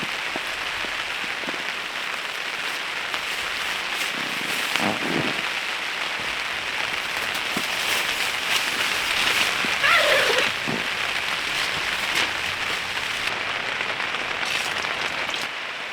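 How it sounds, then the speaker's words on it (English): Heavy rain drums steadily on a camping tent, a dense, continuous patter heard from inside with occasional louder drops and soft movement nearby. "It's raining hard outside right now, really hard."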